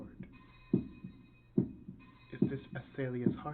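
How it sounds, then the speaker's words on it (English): Rhythmic heartbeat pulses felt through a sword in the visual novel game Eien no Aselia, a soft low thump repeating roughly every 0.8 seconds beneath a steady hum, with talk joining over the final second. "Is this Aselia's heartbeat?"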